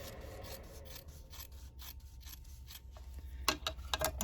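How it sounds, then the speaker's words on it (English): Scissors trimming foundation paper-piecing paper and fabric near a quarter-inch seam, a quiet rasping rub of blades through layers, then several sharp close snips toward the end. "with a pair of scissors just trim down, eyeball to about 1/4 of an inch"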